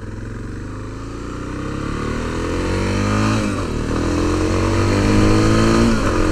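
A Suzuki DR650 motorcycle riding along a road, its engine droning loud and steady with gradual rising and falling pitch as it shifts, mixed with wind rush.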